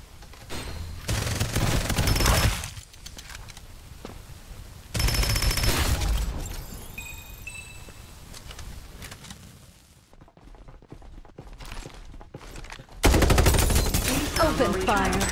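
Bursts of video game gunfire, several loud rapid volleys separated by quieter stretches with beeps and game sounds, a final heavy burst at the end, voices from the game heard in between.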